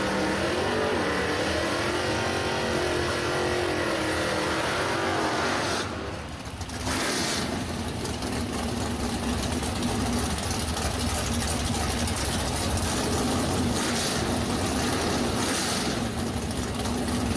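A Chevrolet Camaro and a Ford Mustang race cars drag race at a strip, their engines a loud, steady roar that dips briefly midway and then surges on.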